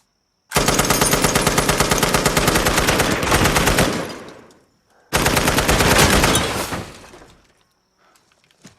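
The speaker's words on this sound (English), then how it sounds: "I want you to take that out with the M60." An M60 machine gun fires in a film scene, two long, loud, rapid bursts of about three and two seconds, separated by a brief pause, each trailing into echo and tinkling debris.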